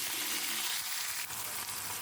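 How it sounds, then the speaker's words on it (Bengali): Whole dried red chillies and white cumin are stirred in hot oil, a close, continuous sizzle and crackle with faint scrapes of stirring and no talk. "গোটা শুকনো লঙ্কা, সাদা জিরে। এগুলো দিয়ে ভালো করে নাড়িয়ে নিচ্ছি।"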